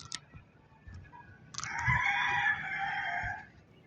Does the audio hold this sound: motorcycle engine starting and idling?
no